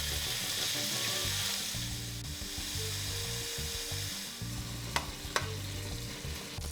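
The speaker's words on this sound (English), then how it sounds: "You wanna make sure that you fry your ham well." Cooking ham browning in a couple tablespoons of vegetable oil in a rice pot for Puerto Rican arroz con gandules sizzles steadily while being stirred and scraped around the pot, close and without talk, with two sharp clinks near the end.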